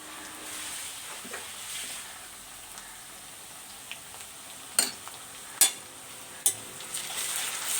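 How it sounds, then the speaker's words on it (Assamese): Garlic, ginger and chili paste frying in a pan, a soft continuous sizzle with several sharp spatula taps and scrapes near the end, close, with no talk. "ধুনীয়াকৈ ভাজি ল'ব লাগিব।"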